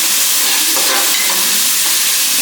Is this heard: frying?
yes